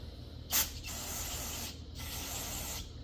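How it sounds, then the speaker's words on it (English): WD-40 lubricant sprayed from a can into a bolt hole on a pressure washer wheel hub, a few steady close hissing bursts with short pauses between them. "Let's get that WD squirted out of that hole."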